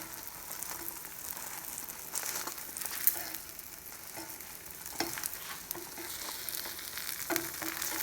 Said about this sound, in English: It's like you're frying it flat, and I'm frying it in butter,